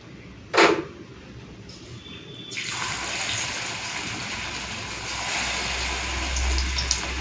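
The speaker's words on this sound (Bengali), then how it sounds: "এখন বড়াগুলোকে ভেজে নেব।" Masoor dal and onion fritters go into hot oil: a sharp clack comes first, then a broad frying hiss starts and builds to a steady, close sizzle that carries on to the end.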